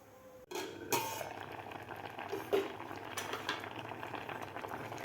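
A lid is set on a pot of green raw mango pieces cooking on a gas stove, giving a sharp metallic clack, then a second knock, over a steady low simmer.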